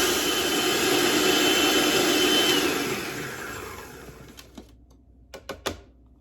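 A food processor grinding rolled oats, a loud high whirring roar that winds down after a few seconds, followed by a few sharp clacks of the lid or blade settling.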